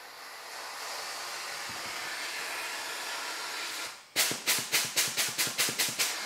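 A shop air system with a rebuilt needle valve sprays coolant and air, first as a long steady hiss, then as a series of about nine quick, loud rhythmic bursts.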